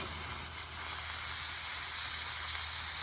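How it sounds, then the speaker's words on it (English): Bacon sizzles steadily on a hot griddle of a Ñuke Delta grill, a loud continuous crackling hiss up close. "Don't you just love the sizzle? Sizzle of the griddle."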